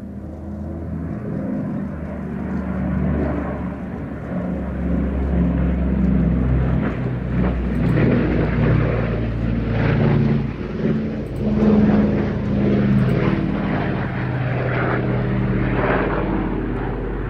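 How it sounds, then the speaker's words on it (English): A four-engine piston airliner flies overhead at the Midlands Air Festival, its loud, throbbing propeller drone rising and swelling steadily without any speech. "One of the very last 4-engine piston-engine airliners flying anywhere in the world."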